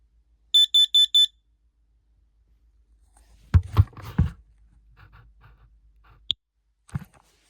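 Smoke alarm under test gives four quick, evenly spaced high-pitched beeps, then several clunks and clicks of handling follow, with faint rustling and silence between.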